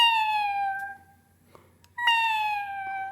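A person imitates a cat, giving two drawn-out, tonal meows close up with a short quiet gap between them and no other talking.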